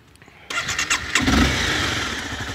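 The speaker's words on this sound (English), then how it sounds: "I've just started the bike" A Royal Enfield Classic 350 or Honda CBR250R motorcycle engine cranks with a few short clicks and turns, then catches and settles into a steady idle, close by, with no talking.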